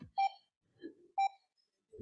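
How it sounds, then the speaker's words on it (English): Workout interval timer sounding two electronic dings about a second apart, each a clear tonal chime with a short ring, followed by faint low rumble between them. "You have 10 seconds before the timer"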